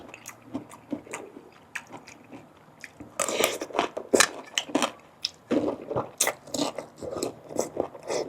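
Crunchy market-bought pork rinds bitten and chewed up close, a steady run of crisp crackling crunches that grows louder and denser partway through, with no talking.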